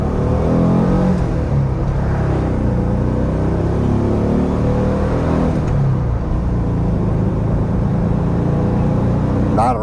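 A 1971 VW Bus with dual carburetors and a new exhaust accelerates down the road, its air-cooled engine rumbling and revving steadily and loudly throughout, with no talking.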